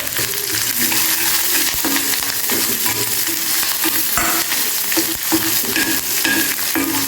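Curry leaves, green chillies and ginger crackle in hot oil for a poha curd tempering, a loud, close, continuous sizzle with scattered pops and stirring scrapes and no voices.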